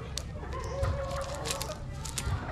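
Chickens, young pullets and a rooster cluck and call on a farm, fairly close and moderately loud against a steady noisy background, with a couple of low thumps.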